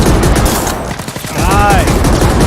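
Automatic turret fire in the video game The Ascent, a dense, loud stream of rapid gunfire and impacts running through the whole stretch, briefly dipping midway before resuming among other game effects.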